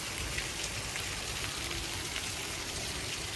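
Heavy, fast rain falls in a dense, even hiss with close patter of drops striking surfaces, continuous and unbroken throughout, with no voices heard.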